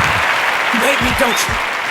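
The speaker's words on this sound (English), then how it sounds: "Thank you for the round of applause" A round of applause at a podcast taping fills the clip with dense, steady clapping, and a voice talks briefly over it.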